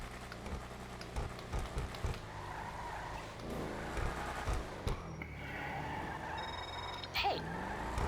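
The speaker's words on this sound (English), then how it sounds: "y'all heard the rev" A car engine in GTA Online idles and revs in several short loud bursts with low rumbling, then settles into a steadier drone, while a person talks faintly in the background.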